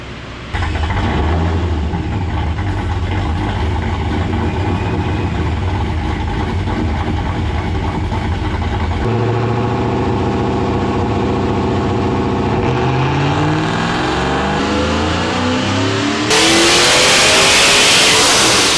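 A Procharged 2001 Pontiac Trans Am with an F1A94 supercharger roars loud and close on a dyno, holding a steady high-revving drone that shifts pitch midway and surges into a harsher, louder blast near the end.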